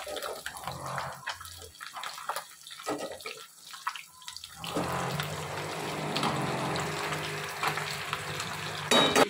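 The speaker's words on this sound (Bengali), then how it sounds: "এপিট ওপিট ভালো করে ভেজে নেব।" Eggplant frying in oil in a pan: uneven scraping and clatter at first, then a steady, fairly faint sizzle taking over for the rest, no talking.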